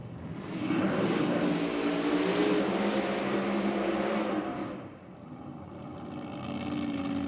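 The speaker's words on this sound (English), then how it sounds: "the Pennywise Mustang fires into life" A Mustang nostalgia drag car's engine roars loudly at a drag strip, holding a rough, throbbing idle before dipping briefly and then rising again.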